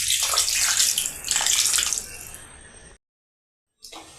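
Around a cup and a half of hot water pours into a pan of chicken cooked with raw mango, splashing steadily and close for a few seconds before stopping abruptly into silence.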